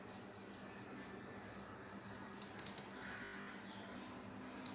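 Light, quick typing on a computer keyboard with a short burst of sharper key clicks partway through, heard faintly over a steady background hum.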